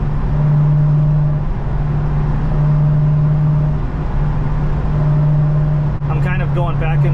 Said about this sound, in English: At a certain speed, you can really hear the diff whine.